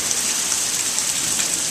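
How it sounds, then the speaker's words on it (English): Heavy rain pours steadily during a Texas thunderstorm, a dense, continuous hiss of drops striking surfaces close by with no pauses. "See how much rain is falling in about 10 minutes?"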